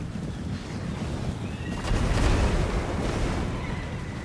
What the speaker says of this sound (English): You can hear the Mortis engine in the background